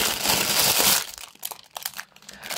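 Thin plastic packaging of a parcel from AliExpress crinkles loudly and steadily for about a second as it is unwrapped, then gives way to sparse, quieter rustles and crackles.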